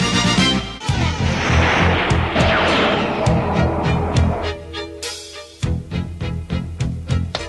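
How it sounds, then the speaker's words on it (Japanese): A loud explosion of the Autobot base in the Transformers: Super God Masterforce anime bursts out with a crash and rumble, followed by a brief hush and then a series of sharp impacts and blasts. "サイバトロン基地大爆発。"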